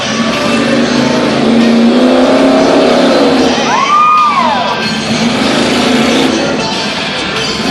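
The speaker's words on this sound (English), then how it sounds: "It's a Toyota body with a Chevrolet engine" A race car with a Toyota body and a Chevrolet engine roars loudly and continuously, with an engine note that swells and sweeps as it passes, under faint crowd noise.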